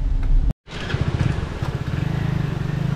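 A car or motorbike engine runs close by while being parked at a roadside bhel stall near a waterfall, with a brief dropout early on and then a steady, pulsing low motor drone.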